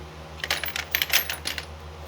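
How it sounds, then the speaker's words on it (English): A metal drill bit drops into a bucket holding other drill bits, setting off a quick cluster of bright metallic clinks and rattles that settle within a second or so. "Another drill bit goes in that bucket."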